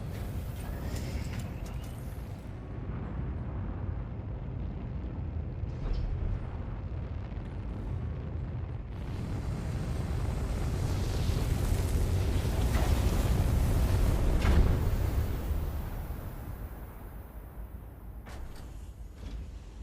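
A spaceship's auxiliary engine running weakly in the Stellar Blade video game, a steady low rumbling roar with windy turbulence that builds toward the middle, bumps once and then eases off.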